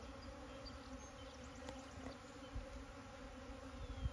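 Bees buzzing steadily in a dense, continuous drone, faint and close, with a few individual insects passing nearer, bees restless after days stuck inside during cold weather.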